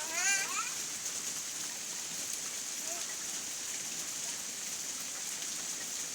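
Steady rain pours down across surfaces outdoors, a dense continuous hiss of drops with a brief chirpy sound near the start.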